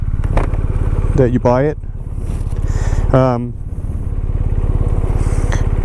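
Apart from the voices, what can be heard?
motorcycle riding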